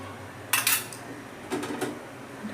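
A metal lid clatters onto a cooking pan of simmering prawn curry, two short bright clinks of metal on metal about a second apart, close and clear over a quiet kitchen background.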